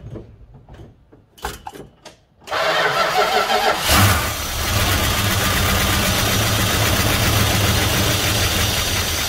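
A 1971 Dodge Coronet police car engine cranks with a few sputtering attempts, then catches and roars to life, settling into a loud, steady idle.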